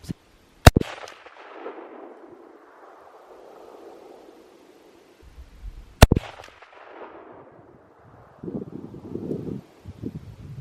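Two loud rifle shots from an outdoor hunting trip, one near the start and another around six seconds in, each sharp crack trailing off into a long rolling echo, with faint rustling and wind between them.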